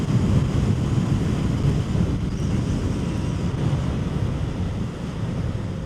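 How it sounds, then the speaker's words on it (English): Strong wind buffets the rider on a Kawasaki Z650 motorcycle along a coastal road in Croatia, giving a loud, constant low roar of wind on the microphone that stays steady throughout with no speech. "It's really windy today."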